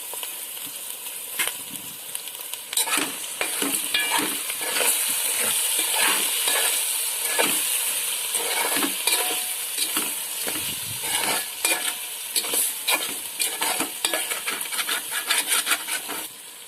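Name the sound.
stirring curry in pot after adding rock salt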